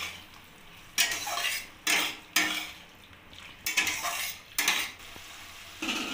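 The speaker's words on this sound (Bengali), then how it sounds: "এবার ভালো করে নাড়িয়ে নেব।" A spoon stirs soy sauce, vinegar and chilli sauce in a pan for chili egg, making repeated loud metallic scrapes and clinks in bursts about every second, close up, over a quiet low sizzle.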